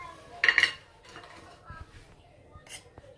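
Salt being mixed into bread dough ingredients in a bowl, heard as a few close clinks and scrapes of a utensil against the bowl, brief and light.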